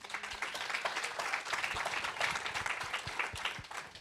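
An audience at a consumer-generations panel talk applauds the panelists, a fairly faint, even patter of many hands clapping with a few sharper claps near the front.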